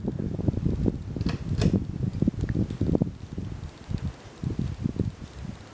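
A 52-inch Hampton Bay St. Claire II ceiling fan runs on medium speed, a close, soft whooshing air rush with uneven rhythmic pulsing from the blades and a slight wobble, heard alone without talk.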